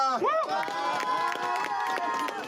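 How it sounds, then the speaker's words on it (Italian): More than 70 alpine and cave rescuers of the Italian national rescue corps burst into relieved cheering after a cave rescue, with raised shouting voices over scattered, close hand claps. "Un applauso liberatorio, quello degli oltre 70 soccorritori del Corpo Nazionale Soccorso Alpino e Speleologico"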